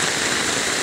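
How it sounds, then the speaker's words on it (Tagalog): Heavy rain pours down steadily during flooding in Valenzuela, a dense, even hiss that fills the short moment without a break. "may pagbuhos pa rin, malakas pa rin ang ulan"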